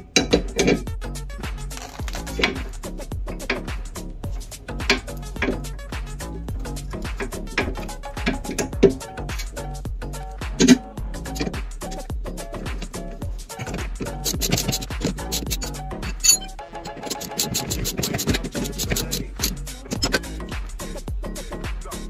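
Dense, close ratcheting and scraping of a suspension bar on a BMW E92 being tightened by hand, with continuous clicks and rasping mechanical noise throughout.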